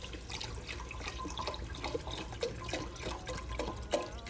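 A full 32 ounces of chicken broth poured into a pan for a copycat Olive Garden soup, giving a steady close liquid splashing and trickling with small drips throughout, with no talking.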